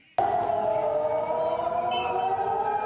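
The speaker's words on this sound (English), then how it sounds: "As air raid sirens sound in Tel Aviv, warning of an incoming Iranian missile strike" An air raid siren in Tel Aviv, warning of an incoming Iranian missile strike, wails in a sustained, loud, slightly echoing tone that starts abruptly and holds steady.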